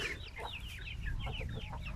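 A young Indian breed rooster clucks in a quick run of short, chattering calls that stay close and steady over a low background rumble, with no voices.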